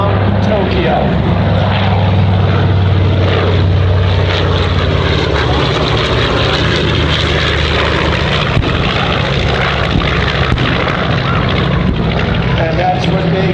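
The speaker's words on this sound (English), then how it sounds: "the Avenger coming in right now, torpedo bomber" A WWII Avenger torpedo bomber flies in at the Dover airshow, its propeller engine a loud, steady, rumbling drone that holds throughout.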